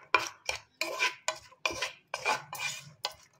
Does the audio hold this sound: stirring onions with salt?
yes